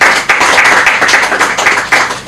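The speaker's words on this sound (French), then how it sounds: "vos applaudissements" A live audience claps loudly and steadily at a Congolese TV broadcast, a dense close wash of handclaps with a few stronger bursts and no voices.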